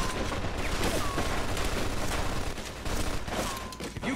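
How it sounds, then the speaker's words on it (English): Machine gun fire in the Mafia 2 video game erupts as a dense, sustained fusillade of rapid shots with echoing booms and mechanical clatter, loud and continuous throughout, with faint shouted voices underneath. "Looks like we found the machine gun!"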